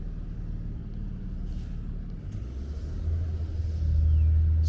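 Busy traffic on Bay Ridge Parkway in Brooklyn, a steady low rumble of cars and trucks passing close by that swells louder toward the end, with no talk.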